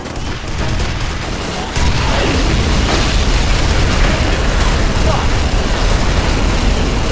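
Sustained heavy gunfire in the shooter F.E.A.R. Perseus Mandate, a dense, loud continuous barrage that kicks in sharply after a quieter opening and holds steady to the end, with a voice briefly calling out over it.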